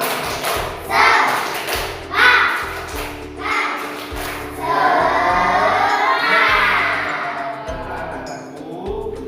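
Classroom children perform a rhythmic spirit clap, groups of sharp claps and thumps in patterned bursts, with children's voices shouting and chanting between.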